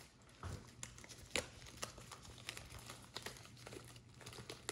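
A plastic leg holder pops and crinkles as it is pulled off a roast turkey. The clip is a quiet series of close crinkles and small snaps with no talk.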